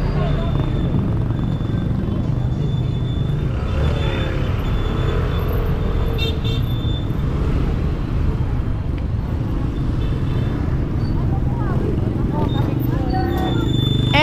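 Car traffic on a busy Manila street near Quiapo produces a constant, loud roadway rumble with engine drone, occasional horn-like tones and distant voices mixed in, running without break throughout.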